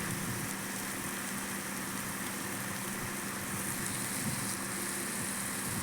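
Onion frying in a pan for a Malvani-style village vegetable dish of kuda flowers, giving off a soft, steady, faint sizzle with no talk.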